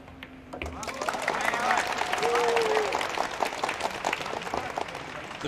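Light crowd applause at the 2023 Hanoi Open Pool Championship swells and fades gently in an indoor hall, with a commentator talking softly over it.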